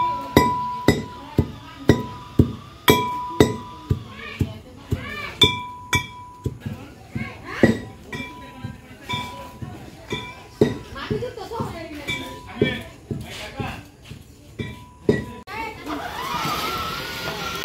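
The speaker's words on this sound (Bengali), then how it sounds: "এদিক দিয়ে কিন্তু আদা রসুন বাটাবাটি শুরু হয়ে গেছে কালকের জন্য" Ginger and garlic being pounded into paste while preparations for a gaye holud wedding ceremony go on: a steady series of ringing clinking strikes, with voices and children's chatter around them.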